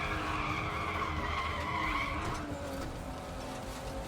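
A car drifts through a highway on-ramp in the racing game Need For Speed: The Run, its tires squealing in a loud, sustained screech over a steady engine roar, with no talking.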